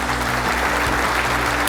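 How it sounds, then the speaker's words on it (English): Loud, continuous applause from a conference audience greets a speaker coming on stage at a tech enterprise event, the packed clapping mixed with a low hum from the hall's sound system. "Give him a big round of applause,"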